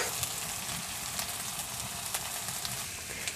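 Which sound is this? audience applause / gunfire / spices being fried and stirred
spices being fried and stirred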